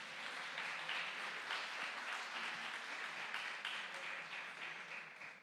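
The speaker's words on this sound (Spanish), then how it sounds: "Denle un aplauso a ese Dios todopoderoso" Church congregation clapping during a Spanish-language sermon, a sustained, even patter of many hands at moderate distance, continuing for over five seconds without talk.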